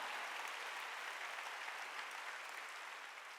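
Congregation clapping at a Wednesday worship service in a Korean church, a steady dense wash of applause sustained evenly throughout without pause or speech.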